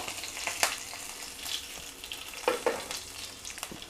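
Asafoetida, dried red chillies and spices stirred in a pan of hot oil, giving a soft steady sizzle with a few sharper scraping clicks of the spoon against the metal.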